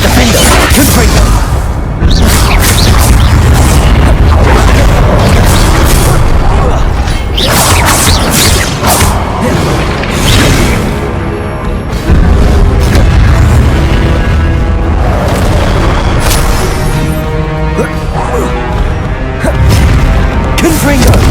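Repeated loud blasts of the Confringo explosive spell in Hogwarts Legacy combat, booming and crashing in quick succession over a dense, continuous battle mix with shouted voices throughout.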